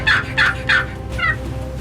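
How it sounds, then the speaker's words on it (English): A wild turkey gobbler gobbles in a field: three quick, loud rattling gobbles in succession, then a softer fourth one, set against a low outdoor rumble. "we already have a gobbler coming in the field"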